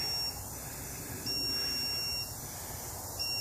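High-pitched locator beeper of a lost RC airplane caught in a tree in the woods, sounding as thin, faint intermittent tones from a distance over a noisy outdoor background.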